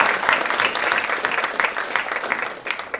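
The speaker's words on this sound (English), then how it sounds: "Give him a round of applause." A seminar audience bursts into lively applause, dense clapping that rises and falls over three seconds with some faint crowd murmur underneath.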